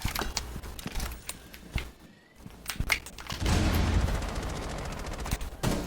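Rapid bursts of AK-12 rifle fire in the Rainbow Six Siege video game, several sharp close shots and a sustained automatic volley, loud and punchy with brief pauses between.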